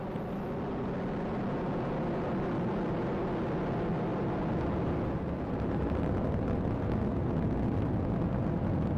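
A continuous, powerful roar of two BE-4 rocket engines during a Vulcan Centaur launch ascent fills the clip, broad and unbroken, rumbling steadily without pause.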